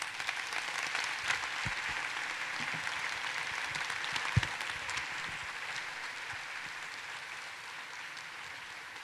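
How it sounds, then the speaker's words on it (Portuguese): Sustained audience applause at an international conclave fills the room evenly and steadily, a dense wash of clapping with no voices on top. "desde aquí le mandamos un abrazo y un aplauso muy fuerte"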